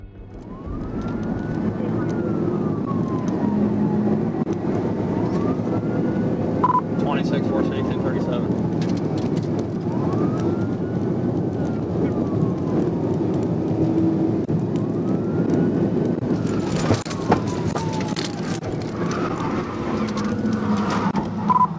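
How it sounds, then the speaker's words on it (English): A police car siren wails in slow rising and falling sweeps during a high-speed traffic stop pursuit toward a construction zone, over a steady road rumble, while a voice talks throughout. "Byrd activated his emergency lights and sirens to initiate a traffic stop"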